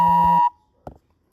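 A phone gives a loud, steady electronic notification beep lasting under half a second, followed by a brief muffled thump in otherwise quiet surroundings.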